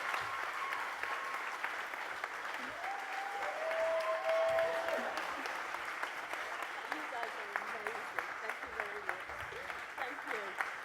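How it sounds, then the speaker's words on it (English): A school graduation audience applauds a gymnastics coach marking ten years at the school: steady, fairly quiet clapping that runs throughout, with a voice speaking faintly over it partway through. "Let's give Miss Kay a round of applause."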